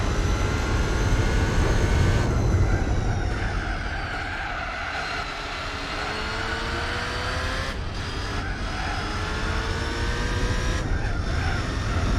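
Race car engine from Gran Turismo 4 runs steady and loud, with harmonic lines rising and dipping through gear changes and a few brief drops, continuous engine drone without talk.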